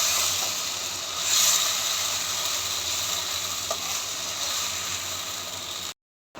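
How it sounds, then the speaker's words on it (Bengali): Onions fry in a pan toward brown for a katla fish curry on a gas cylinder stove, giving a steady close sizzle and hiss with faint clinks that stops abruptly into silence. "একটু বাদামি করে ভাজতে হবে"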